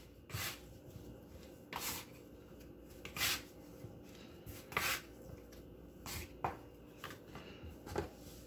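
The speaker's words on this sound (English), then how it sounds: "My little handy scraper here. I'm just going to bring this dough together like so." A bench scraper pushing and gathering biscuit dough across a floured work surface, giving soft scraping strokes at irregular intervals, close and quiet with no talk.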